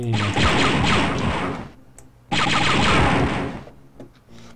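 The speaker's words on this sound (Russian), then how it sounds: "Попрошу заметить, что выстрелы синего цвета, лучи, точнее, лазерные." Two long bursts of rapid, crackling blaster rifle fire in the video game Star Wars: Dark Forces, each lasting over a second, with a short pause between them and a few scattered shots after.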